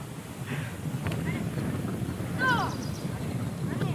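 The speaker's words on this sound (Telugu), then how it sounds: "గాలి అయితే విపరీతంగా వస్తుంది" Strong wind gusting outdoors at a house-building site, a steady close rushing roar that swells and fades across the whole stretch, with faint high chirps above it.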